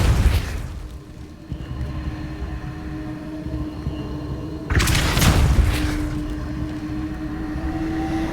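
A Depulso force spell strikes in Hogwarts Legacy, a broadband whooshing boom that swells and rolls over a steady hum, followed by a second, louder impact burst midway that fades into low rumble.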